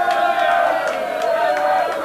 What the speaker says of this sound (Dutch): Dames en heren, maak een applaus, Erwin!